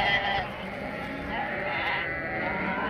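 Lambs bleating at a livestock pen during cold weather, a steady run of overlapping calls at close range, with some faint voices mixed in.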